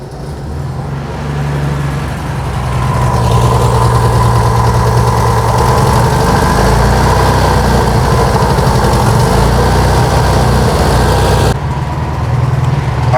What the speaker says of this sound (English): Car's idling, it's running.